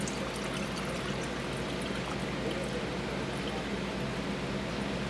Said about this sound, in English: we're gonna need to add 1 cup of room temp water